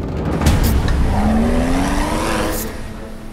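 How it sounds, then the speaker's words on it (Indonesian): Box truck and car running close side by side on a road, a loud continuous engine and tire roar with a rising whine, heard near and without talk. "Itu mobil box ngapain mepet di mobil Indah?"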